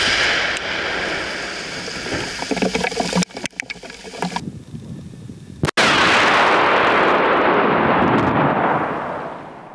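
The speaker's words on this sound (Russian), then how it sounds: "установили взрывчатое вещество, вставили электродетонаторы и с безопасного расстояния произвели взрыв" A controlled detonation of aerial bombs with electric detonators: a large blast erupts after some rustling and sharp cracks, followed by a long, loud roaring rumble that slowly fades as debris settles.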